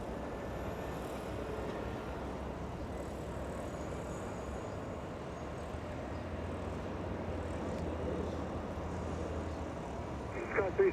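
A SkyWest airliner taking off from runway 24 left at LAX, a steady, broad jet roar holding at even loudness throughout, heard from a distance with airport background noise.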